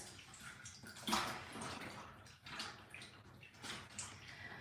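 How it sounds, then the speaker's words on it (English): A water-marbled fabric scarf is gently swished and rinsed by hand in water, making continuous soft splashing and trickling with a few louder surges, close and quiet, with no talking. "So I'm just giving it a bit of a rinse."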